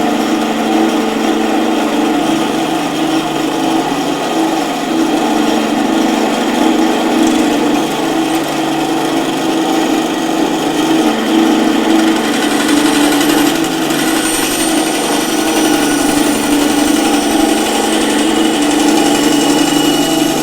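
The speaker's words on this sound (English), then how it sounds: "I'm going to now have to sand this down into pieces, or a workable boot for this nut" A power sander runs loud and steady at close range, sanding down a boot for the nut of a Westone Thunder 2A guitar. The buzzing drone is constant for the whole span, with no talk.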